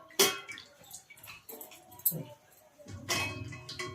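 Tamarind is washed by hand in water while a spinach dal is being cooked. Soft splashes, drips and faint clinks come in short, irregular bursts, close and quiet.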